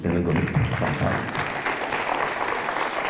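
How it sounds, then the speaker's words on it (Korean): A lecture-hall audience at a forum applauds a conductor's greeting, a dense, steady wash of clapping from many hands that continues throughout, with a voice speaking faintly over it at the start. "그래서 수시로 제가 인사하면 이렇게 박수를 쳐주시면 되는 겁니다"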